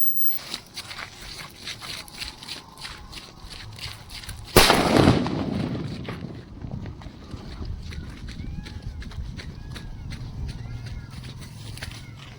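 A firecracker bursts beneath a football taped on top of it, one sharp, loud blast partway through, with scattered clattering and outdoor background noise before and after.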